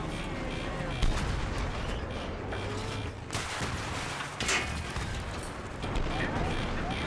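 Gunfire in Battlefield 3, heavy booming shots and rumbling blasts running under frequent talking, with a sharp louder burst near the middle.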